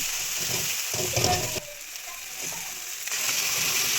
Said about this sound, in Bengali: এবার ভালো করে নেড়ে নিয়ে একটু ফ্রাইং করে নেব।